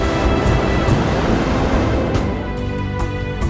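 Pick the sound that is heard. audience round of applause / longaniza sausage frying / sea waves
sea waves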